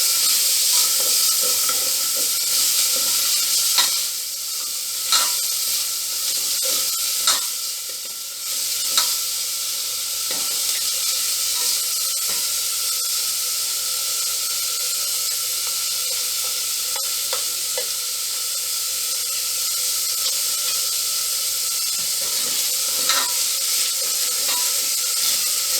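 Quinoa, lentil and brown rice pulao with vegetables frying in a pan, a continuous bright sizzle and hiss with occasional soft stirring clicks, steady and close with no voices.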